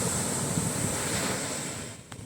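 Ocean waves break on a beach, giving a continuous loud roar of surf with wind noise throughout, easing slightly toward the end.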